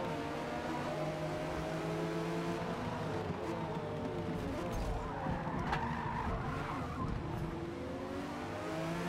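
A Ford Mustang race car in the Forza Motorsport video game holds a loud, continuous engine tone that rises and falls, with tire skidding and squeal mixed in throughout.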